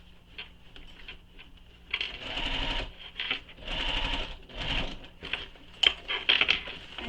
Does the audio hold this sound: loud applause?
no